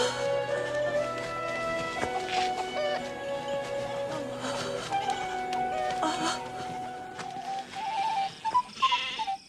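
Sheep and goats bleat over a musical score in a nativity scene of shepherds keeping watch over their flocks by night near Bethlehem. The calls are steady and mid-distance, with music throughout.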